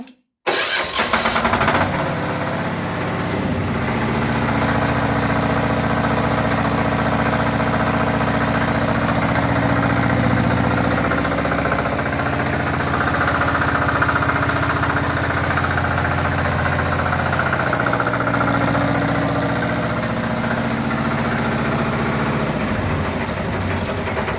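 A small Chinese engine, started with the decompressor, catches and then runs steadily at a constant idle, loud and close, droning for a long stretch without pause.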